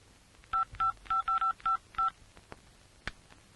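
A telephone keypad sends a quick series of seven touch-tone beeps in an uneven rhythm, clear and close in a quiet room, followed by a couple of faint clicks.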